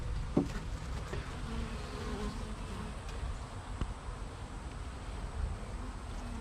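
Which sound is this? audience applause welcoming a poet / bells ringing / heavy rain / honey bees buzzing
honey bees buzzing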